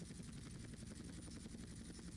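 Steady rhythmic thudding of a Hunter helicopter's rotor blades in a video game, with a constant engine drone, fairly faint and continuous, no voices.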